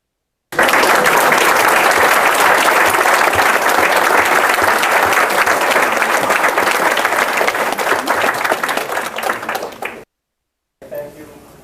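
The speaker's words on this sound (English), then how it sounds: "May we have a round of applause for America." Audience applause at an Eagle Scout ceremony, a loud, steady burst of many hands clapping for about nine seconds before cutting off abruptly, followed by a brief quieter fragment.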